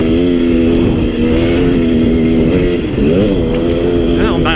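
KTM 250XC dirt bike engine revving loudly and steadily up close, with pitch swells and dips as the rider works the throttle on a low-branch trail.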